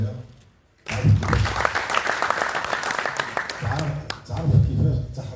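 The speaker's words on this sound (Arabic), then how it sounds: "صفقوا عليها." An audience applauds boxer Khadija El Mardi with sustained clapping that starts abruptly after a brief lull, while someone talks over it.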